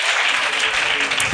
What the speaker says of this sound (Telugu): చప్పట్లు కొట్టి గట్టిగా దేవునికి స్తోత్రం చెప్పాలి